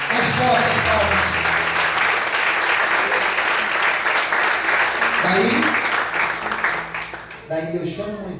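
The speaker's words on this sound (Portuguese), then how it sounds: "Mais fortes palmas." Loud, sustained clapping from a church congregation, dense and continuous for several seconds before tapering near the end, with voices audible underneath.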